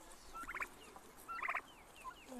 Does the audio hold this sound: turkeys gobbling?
yes